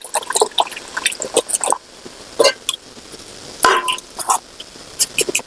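Soaked dried chillies tipped into a large pot of water, giving a run of close splashes, drips and small plops in irregular bursts, with brief clinks of the vessel between them.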